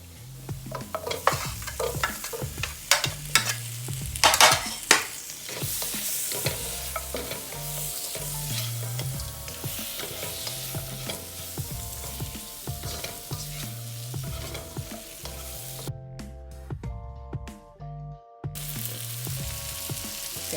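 Chopped tomato and about fifty pieces of shrimp sauté in a pan for shrimp biryani, a close, steady sizzle broken by rhythmic scraping strokes of a spoon stirring through the mix.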